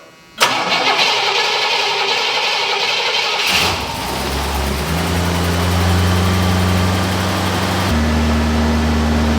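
A 1976 Cadillac Eldorado with a newly replaced ignition system cranks and catches, then settles into a steady, loud idle with a low rumble whose pitch steps up slightly as it warms.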